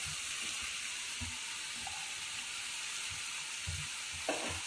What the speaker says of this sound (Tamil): நல்லா ஒரு 2 மினிட்ஸ் நல்லா வதக்கி விட்டுக்குங்க.